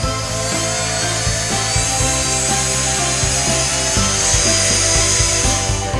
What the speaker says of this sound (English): we're going to use a drill with a 1/2 inch paddle bit